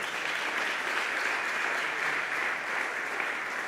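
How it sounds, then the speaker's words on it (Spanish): A church congregation applauds steadily, a dense continuous clapping that fills the room without pause. "Démosle un aplauso al Señor"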